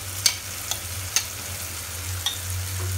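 Fried chicken sizzles in a pan as a yogurt mixture is added and stirred, a steady soft frying hiss under a few sharp spoon scrapes and clinks.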